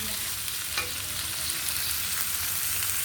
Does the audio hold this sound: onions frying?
yes